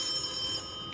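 A telephone rings steadily in the video game Charon's Staircase, a bright electronic trill holding through the whole short moment with no voice over it.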